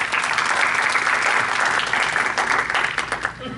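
Audience applause at an Urdu Academy literary tribute to Allama Iqbal: a dense, steady clatter of many hands filling the hall, sustained throughout and tapering slightly at the end.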